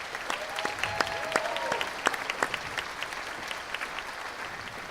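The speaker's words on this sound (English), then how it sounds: "How about a round of applause for our 8th graders?" An audience at a school winter band concert applauds the 8th grade symphonic band players, a sustained wash of clapping with a few sharp claps standing out and a brief voice over it.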